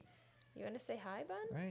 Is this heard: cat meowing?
yes